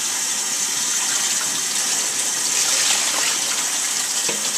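Water pours steadily and loudly while a dog is rinsed in a bath, a constant gushing splash with no break and no talk over it.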